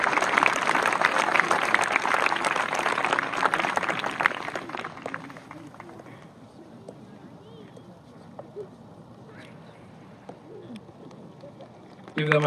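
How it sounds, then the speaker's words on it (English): Applause at a 2014 high school graduation ceremony for the top student award recipients, a dense wash of clapping through the first four seconds that thins out and fades, leaving a quiet hall with scattered small sounds. "Give them another round of applause, please."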